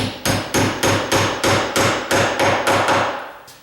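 A hammer taps a door hinge pin eleven times in a steady rhythm, each strike sharp and ringing, close and loud, with no voices.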